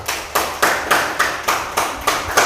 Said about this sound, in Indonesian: Tepuk tangan buat Mas Bian dan Mas Farel